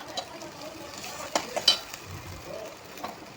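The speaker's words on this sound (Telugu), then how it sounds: "పేస్ట్ని అయితే మనం కొద్దిసేపు ఫ్రై అయితే చేసుకోవాలి" Spice paste frying in hot oil for a fish curry, a soft low sizzle broken by a few sharp clinks and scrapes of stirring, fairly quiet and close, without talking.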